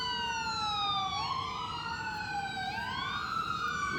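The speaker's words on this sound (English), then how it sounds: "It's the ambulance." An ambulance siren passing outside, a loud steady wailing tone sweeping up and down in overlapping cycles over low traffic rumble, with no talking.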